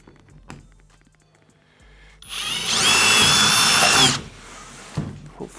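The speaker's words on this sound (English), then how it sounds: "need to drill a hole right over here, and then we can mount it on the car" Power drill boring a hole in a part being mounted on a car as a windshield, a loud steady whine lasting about two seconds after a brief start, heard alone.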